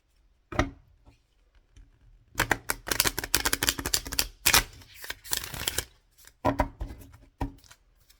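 Stiff tarot cards being shuffled up close, with crisp riffling bursts and sharp flicks coming in uneven clusters, broken by short quiet gaps.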